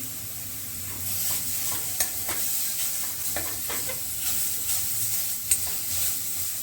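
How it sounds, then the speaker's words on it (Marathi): A spoon stirs turmeric into hot oil in a frying pan while making bottle gourd sabji, giving a steady sizzle with soft scraping strokes and a couple of sharper clinks, close and continuous, with no talking. "हलवून घेऊया यामध्ये थोडीशी हळद टाकायची"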